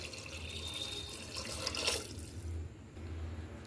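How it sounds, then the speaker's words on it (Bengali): Water pours steadily into a pressure cooker in a home kitchen as it is filled for cooking meat and rice, a soft continuous splashing stream with no voices. "মাপ মতো জল দিয়ে দিলাম"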